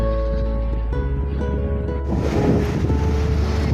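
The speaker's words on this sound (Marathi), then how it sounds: "आणि हा दिसतो तो बीच, अथांगाचा समुद्र सगळ्यात मोठा" Steady roar of ocean surf on a beach at Visakhapatnam, mixed with gusty wind buffeting the microphone and a low, constant hum.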